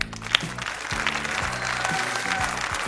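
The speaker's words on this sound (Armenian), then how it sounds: "Ծափարենք։" An audience at a televised game show applauds with steady, moderately loud clapping, while low tones and brief sounds from the show run underneath.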